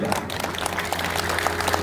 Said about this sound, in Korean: 함께해 주신 시민 여러분께 인사 나누시고 큰 환영의 박수 부탁드립니다.